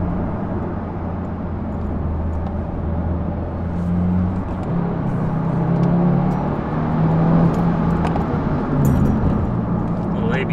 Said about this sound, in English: Pulls hard all the way to red line.